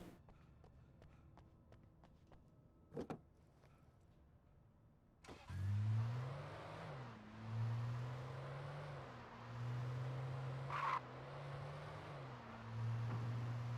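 A car starts and drives in the video game Alan Wake, its mid-pitched engine droning and rising and falling through gear changes after a few seconds of quiet footsteps and faint clicks.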